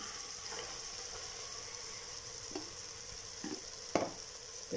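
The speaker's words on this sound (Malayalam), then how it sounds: "കായം തിരുമ്പി വെച്ച ചിക്കൻ ഇട്ട് കൊടുക്കാം" Chicken and chickpeas fry with masala in a pan, giving a soft, steady sizzle up close with a few scraping stirs near the end.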